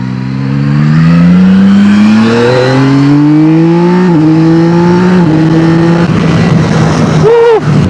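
A 2026 Yamaha Tracer 9 GT V4 motorcycle pulls hard under acceleration, its loud, close engine note climbing steadily through several gear changes with brief dips between rising sweeps, ending in a quick rev blip.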